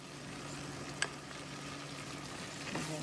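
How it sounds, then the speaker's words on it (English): Corn kernels and a serrano pepper sizzle softly in a pot with small red beans for shrimp chili, a steady low frying hiss with a light clink from stirring. "And give those a stir."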